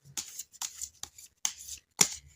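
A deck of tarot cards gets shuffled by hand in five quick riffling bursts separated by brief pauses, close and fairly soft, with no voices over it.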